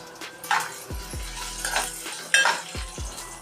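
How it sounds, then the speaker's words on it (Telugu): Dried prawns fry in hot oil in a pot, a crackling sizzle broken by several sharp spoon clanks and knocks against the metal as they are stirred. "ఎండు రొయ్యలు ఈ ఆయిల్లో వేసుకొని ఫ్రై చేసుకోవాలి."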